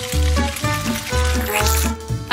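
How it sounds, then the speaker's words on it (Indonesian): Batter-coated sausages dropped into boiling oil give a steady, loud sizzle and crackle, heard under rhythmic background music. "Lalu masukkan mereka ke dalam minyak mendidih."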